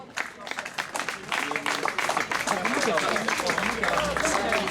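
Spectators clap for a young female cyclist at a race podium ceremony, scattered applause building into steadier clapping amid crowd chatter and a commentator's voice over a loudspeaker.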